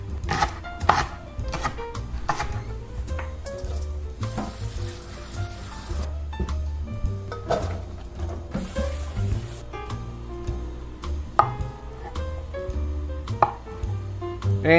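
A knife slicing cremini mushrooms and a leek on a cutting board in a kitchen, with steady, close, rhythmic chopping taps over a continuous background sizzle and a low hum.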